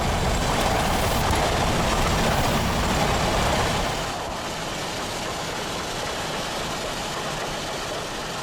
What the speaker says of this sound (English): Pacing continues near Glenshire as the train rolls into Truckee.